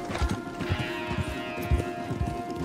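Horse hooves clop in a rough, uneven rhythm while riding in Red Dead Redemption 2, with the thuds close and steady and a faint tonal ambience running beneath them.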